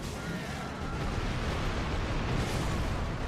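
In a Dark Souls 3 fight against the Demon Prince boss, a dense, loud explosion roars as a steady wall of rumbling noise for several seconds, with no break.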